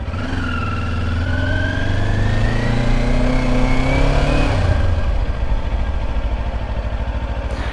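A 2024 Kawasaki Ninja 500 SE motorcycle on its stock exhaust takes off, its engine note rising through the revs and then dropping away as it pulls into the distance, no talk.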